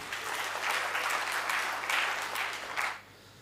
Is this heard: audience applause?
yes